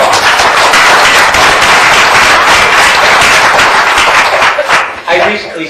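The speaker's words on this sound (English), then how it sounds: "So give yourselves a big round of applause" An audience at a ward special election candidates forum applauds loudly and continuously, a dense wash of many hands clapping that tapers off in the last moment.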